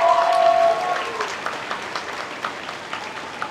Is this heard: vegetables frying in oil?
no